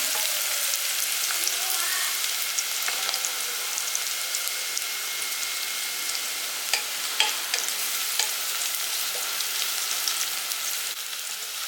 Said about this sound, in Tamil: வெங்காயம் வந்து கொஞ்சம் நல்லா செவக்கட்டும்